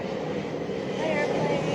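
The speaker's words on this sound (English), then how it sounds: "Hi, airplane." A steady, distant drone of an airplane passing overhead hums beneath a voice giving calm instructions, continuous and moderately quiet.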